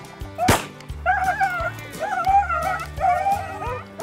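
Hunting dogs bay and yelp during a Kentucky rabbit hunt, with one sharp bark followed by repeated high, quavering cries close by.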